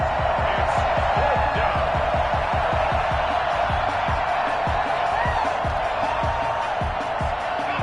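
A broad crowd roar with cheering and whoops in a football video game fills the space continuously, loud and steady, with thumping sounds underneath.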